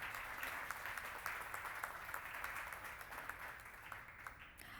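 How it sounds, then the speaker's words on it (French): An audience applauds for a commissioner at a public information session, a faint, fairly distant patter of many hands clapping steadily for several seconds without speech. "Je vais vous demander de l'applaudir également."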